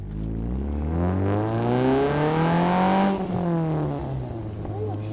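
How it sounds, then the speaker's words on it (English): A Chevrolet Spark engine climbs sharply in pitch during a first-gear pull, peaks with a strained whine, then drops back as revs fall, heard close and moderately loud. "Let me rev it a bit higher. Let's do like a first gear pull."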